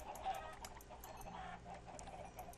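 Chickens clucking repeatedly in the Minecraft Better Than Wolves mod, a steady overlapping stream of game fowl sounds at moderate volume with no talk.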